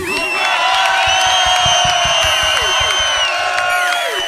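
Live reggae concert crowd cheering and whooping, with shouts and high voices rising over it, while sustained tones and rhythmic beats carry on underneath, loud and continuous.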